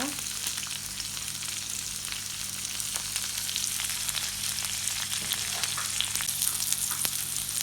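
Okra frying in oil for an okra curd curry gives a constant close sizzle with crackling pops, steady and unbroken over a low background hum, no talking.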